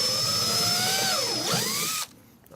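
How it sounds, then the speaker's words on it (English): A power drill with a 1/4 inch bit whines loudly at high speed drilling a hole in an empty gas can, its pitch dipping briefly under load before rising again, then cutting off abruptly. "drill it out"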